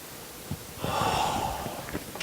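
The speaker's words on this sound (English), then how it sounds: "I just keep breathing in inside this glass and I keep picking up more and more things." Someone sniffing bourbon, a 130-proof Stagg Jr, from a glass up close: a long drawn inhale in the middle, with short snorts and breaths around it and no speech.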